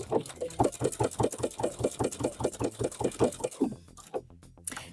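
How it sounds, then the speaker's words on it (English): A sewing machine stitching a half-inch waistband seam on wide-leg pants, a fast, even mechanical chatter of the needle, close and steady, stopping near the end. "we're gonna go sew it with a 1/2 inch seam allowance all the way around the waist"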